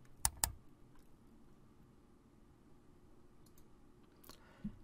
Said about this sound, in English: how to create this video of typing a word and correcting it